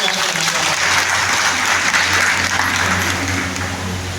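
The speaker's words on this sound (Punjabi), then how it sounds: "ਇੱਕ ਵਾਰ ਜ਼ੋਰਦਾਰ ਤਾਲੀਆਂ" A village gathering in Punjab claps loudly and continuously, a dense crowd applause that stays steady for several seconds and tapers slightly toward the end.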